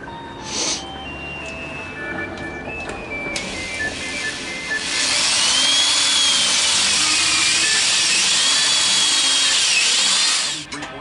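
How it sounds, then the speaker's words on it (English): A power drill whines steadily at close range, its pitch wavering as the bit bites into hard oak, running for several seconds before cutting off. "Just got to drill that hole and put a bolt through it."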